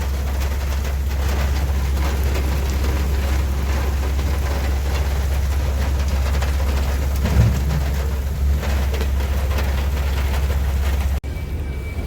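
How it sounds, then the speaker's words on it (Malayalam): Heavy rain pours steadily onto a truck parked at a loading point, making a dense, unbroken hiss with a deep rumble underneath and no talking. "നല്ല മഴ"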